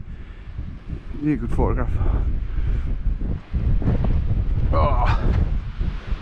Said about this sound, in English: can't wait to get in here and out that wind. It's horrendous.